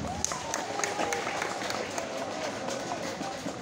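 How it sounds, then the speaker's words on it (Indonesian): Students at a school religious activity at SMAN 2 Ciamis clap together, a steady, dense patter of applause filling the room at moderate loudness with no break. "Boleh tepuk tangan dong."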